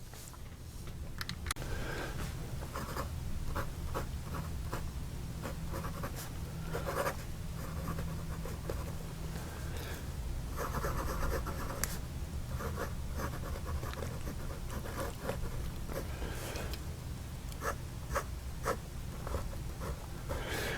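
Medium nib on a SIKIB F19 demonstrator fountain pen scratching steadily across paper in quick strokes and short pauses, close and quiet, with no one talking.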